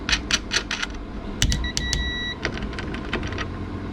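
A nut with washer and spring washer is tightened onto a ring lug on a mega fuse while solar battery cabling is assembled: a burst of sharp, close ratcheting clicks, then thin electronic beeps and a few more scattered clicks.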